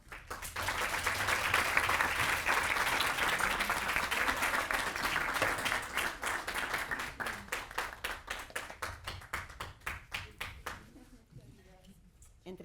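An audience at a university commitment ceremony applauds the nursing school team: dense, sustained clapping from a crowd that builds quickly, then thins into scattered individual claps before fading out.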